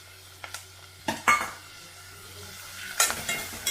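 A spoon scrapes and clinks around a pan of onions and tomato frying for Mysuru-style dal fry, a few sharp stirring knocks over a soft, low sizzle.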